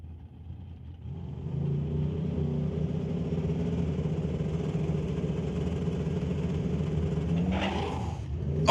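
A Limited Street class drag racing car sits loud and steady near the start line, then launches down the strip with a rising engine roar and a burst of tire shake as it leaves the gate.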